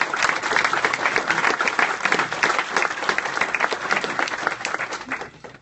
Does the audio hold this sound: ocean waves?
no